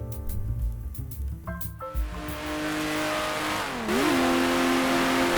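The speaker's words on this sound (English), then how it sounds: "Blasting down the Mulsanne Straight in a Porsche 917" A Porsche 917 race car in the 1971 sports car racing game Grand Prix Legends, driven down the Mulsanne Straight: a loud engine screams through rising gear changes, dips at a shift, then howls on at full throttle, with no talk.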